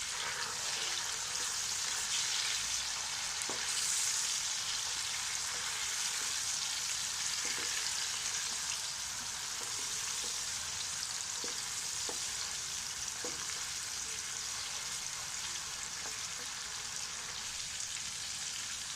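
Finely chopped tomatoes sizzle steadily in a frying pan for an Aloo Gobi Gosht curry, a continuous hissing fry with occasional soft stirring clicks, close and even throughout, with no talking.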